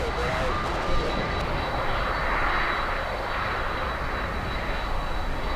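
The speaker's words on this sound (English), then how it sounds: "Aero Mexico flying in from, guess where? Mexico City." An Aeromexico airliner arriving from Mexico City at Miami International Airport, its engines roaring as a steady, loud broadband rush with a faint high whine, continuous and close throughout.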